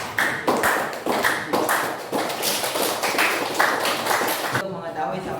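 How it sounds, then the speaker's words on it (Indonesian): Applause in a classroom, a steady patter of many hands clapping close by, with brief pauses, loud and continuous over several seconds. "Beri aplaus untuk"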